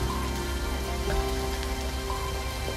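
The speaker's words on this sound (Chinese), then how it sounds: "下这么大雨，我们好像回不去了。" Heavy rain falls in a dense, continuous hiss that stays loud and even throughout, with a faint steady hum underneath.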